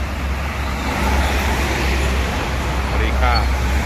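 A new MPM bus rolls along a road in Padang traffic, a loud continuous engine and road rumble with passing vehicles, under speech.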